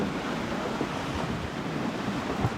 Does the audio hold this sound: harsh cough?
no